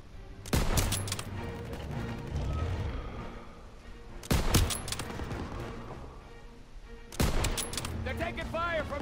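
Call of Duty WW2 combat near a church, with three loud gunshot bursts spaced a few seconds apart, each followed by echoing rattle and battle rumble, close and punchy.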